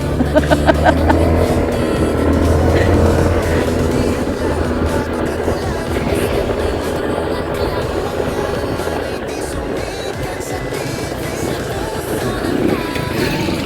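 A large truck drives past with a loud, heavy engine roar and tire rumble, close by and steady before easing off, accompanied by brief background voices.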